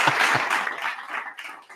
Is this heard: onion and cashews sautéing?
no